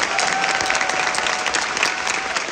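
Theatre audience applauding the production staff at the closing night of a Korean-language Notre-Dame de Paris run in Seoul, a steady dense wash of clapping that holds evenly throughout.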